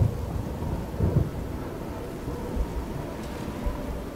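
Thunder rumbles low and continuous during a rainstorm in the video game TES 4: Oblivion, with rolling swells over a steady patter of rain and no voices.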